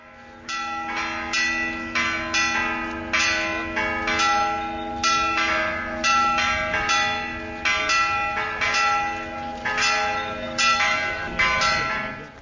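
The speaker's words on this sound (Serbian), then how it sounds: "Crkvena zvona oglasila su dolazak patrijarha Irineja" Church bells peal continuously for the arrival of a Serbian Orthodox patriarch at a cathedral fresco consecration, layered strikes ringing out in a steady overlapping rhythm, loud and sustained with no talk.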